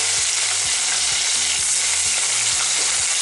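Chicken wings fry in a pan with loud, steady spattering and crackling throughout, the hot oil hissing continuously while a regular low thumping pattern runs underneath.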